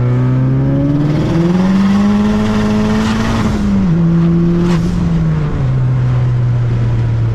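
A turbocharged 600-plus horsepower Mazdaspeed3 pulls hard in third gear from around 35 mph, its engine drone rising steadily in pitch under a loud, continuous intake roar, with a quick shift dropping the tone partway through.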